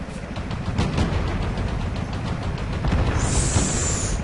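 Rapid bursts of autocannon fire from a PZ1 tank's revolver cannon in the World of Tanks video game, dense and loud, blending into a continuous rattling barrage with no talk.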